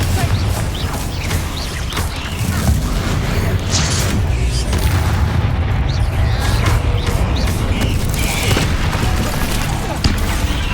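Spell explosions and magical combat in the video game Hogwarts Legacy, a dense, loud wash of booms, crackling blasts and impacts layered over game music, with shouted spell incantations.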